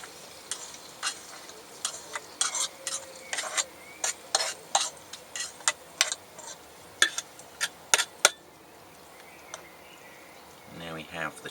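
Tomatoes and potatoes sizzle in a pan while a utensil scrapes and clacks repeatedly, a steady stream of sharp stirring knocks over the frying hiss.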